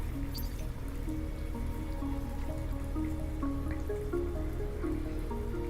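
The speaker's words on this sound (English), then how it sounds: "Steam starts filling the room as the faucet spews out hot water." A shower faucet runs hot water in a steady, unbroken hiss with faint dripping and splashing, heard close with soft tonal notes drifting underneath.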